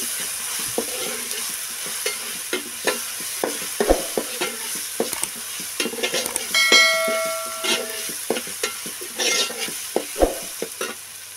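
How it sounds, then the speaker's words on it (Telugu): Ginger garlic paste, two spoonfuls, frying in a pan for mutton cucumber curry, with a loud continuous sizzle broken by repeated sharp scrapes and clinks of a spoon stirring against metal, plus a short ringing tone midway. "పచ్చి వాసన పోయేంత వరకు బాగా వేయించుకోవాలండి"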